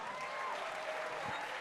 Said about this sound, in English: Can you give this wonderful group behind me a round of applause?